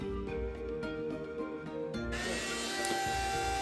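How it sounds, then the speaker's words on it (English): A heat gun blows over a resin project, making a steady motorized whir with a faint rattle. Partway through, the airflow gets louder and becomes a broad, close hiss. "Do a little bit of heat gun with care."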